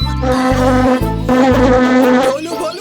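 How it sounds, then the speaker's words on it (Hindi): A cartoon mosquito buzzes loudly and close, a continuous whining drone that wavers in pitch, with no talk over it. "जरा मेरी नाक के ऊपर से मच्छर उड़ा दो।"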